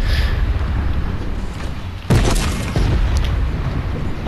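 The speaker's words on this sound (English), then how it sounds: "I'm not using a gun, use the turret." A tank turret fires in Fortnite, one heavy booming blast cutting through a steady rumble of engine and ambient game noise, followed by a softer second thump.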